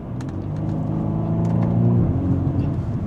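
A 2025 BMW M235i drives with its engine and 8-speed gearbox, a steady close rumbling drone that rises slightly in pitch as it accelerates, with faint clicks on top.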